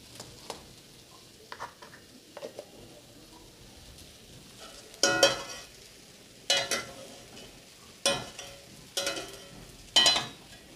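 Panch phoron spices sizzling in hot mustard oil in a pan, a soft frying hiss punctuated by several sharp bursts of crackling and spattering, with a few faint utensil clinks between them, close and otherwise quiet.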